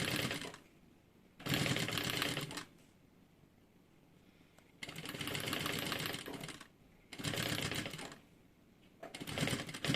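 A sewing machine backstitching along a zipper on a small zippered pouch, running in four close, buzzing bursts of rapid stitching separated by short pauses, with no talking.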